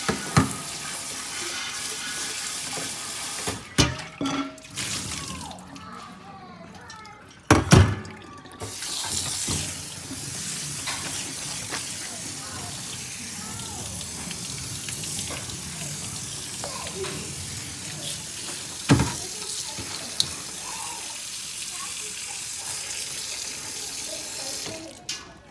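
Corn rinsed under a running kitchen tap for Native American corn soup, with water splashing and gushing steadily into a sink and occasional louder clatters, while a voice and someone talk intermittently.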